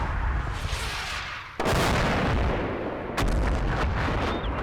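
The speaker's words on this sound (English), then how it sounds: "More artillery over there, which I'm perfectly happy with." Heavy artillery fire in the WWII strategy game Combat Mission: Battle for Normandy, two loud booming blasts with a dense rumbling roar sustained between and after them, no voices.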